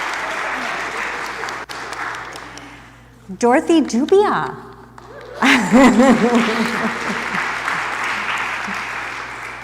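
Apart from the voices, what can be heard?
congregation applause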